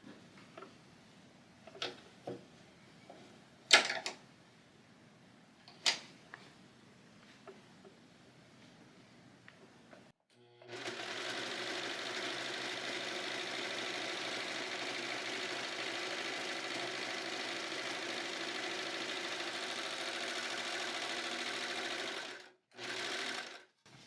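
A Brother serger stitches and trims fabric scraps for crazy quilt blocks, a steady, even mechanical whir that runs for about twelve seconds after a few scattered handling clicks, then breaks off briefly and starts again.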